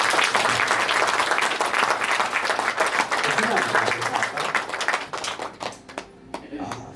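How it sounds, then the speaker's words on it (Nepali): A church congregation applauds the pastor's wife with sustained, dense clapping that gradually thins out and tapers to a few scattered claps at the end. "एकचोटि पास्टर आमाको लागि ताली बजाउनु पर्छ होला"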